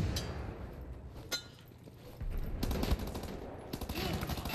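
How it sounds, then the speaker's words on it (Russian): Gunfire in the shooter Wolfenstein: The New Order, heard as rapid bursts of automatic weapon fire with sharp cracks and some metallic clinks, moderately loud against a busy game soundscape. "Так, давайте попробуем стрельбу."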